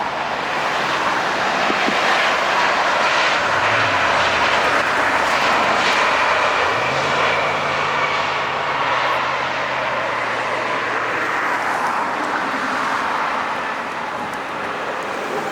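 A Finnair airliner comes in to land at LAX, its jet engines producing a loud, sustained roar and whine that holds steady and then eases slightly as it passes, with no talking.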